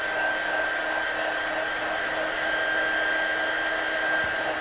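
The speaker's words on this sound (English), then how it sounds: "so I'm just going to dry those off with my gun" Heat gun drying watercolour ink on stamped florals, blowing as a steady, loud, continuous whir and rush of air with an even high whine throughout, close by and uninterrupted.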